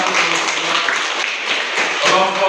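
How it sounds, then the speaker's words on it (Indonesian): Applause from a group of students in an Indonesian religion class, a steady dense patter of clapping at close range with voices mixed in. "Oke, tepuk tangan."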